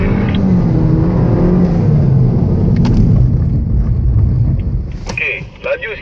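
A BMW accelerates on a performance driving course, its engine rumbling loudly and steadily close by before fading, with voices heard over it.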